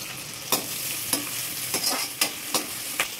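Vegetables such as carrot, capsicum and cabbage fry in hot oil for egg noodles, a steady close sizzle punctuated by about six sharp scrapes of a spatula stirring the pan, with no voices.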